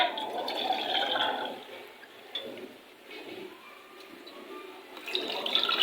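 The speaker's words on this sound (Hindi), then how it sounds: "तो सबसे पहले जितने हमारे चावल थे उसी हिसाब से इसके अंदर हम पानी डालेंगे" Water is poured into a pan to make jaggery syrup for sweet rice: a close splashing pour that swells, dips and picks up again over a few seconds, with no talking.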